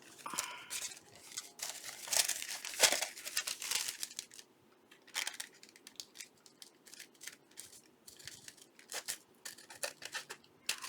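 Scissors trimming paper for a handmade trashy journal, with close, crisp snips and rustling, crinkling paper in uneven bursts, louder early on, then scattered cuts with short quiet gaps.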